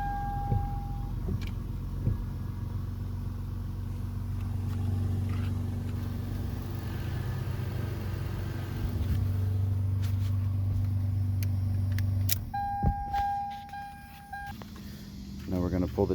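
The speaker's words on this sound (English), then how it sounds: "Go fire up the car." A Toyota Avalon's engine idles steadily after an oil change, a low continuous running drone heard close, with a few short electronic beeps and a person talking over it.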